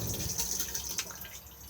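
A Thetford cassette toilet flushing inside an Elddis Majestic 135 caravan, a short close hiss of running water rinsing the bowl, fairly steady for under two seconds with no voices.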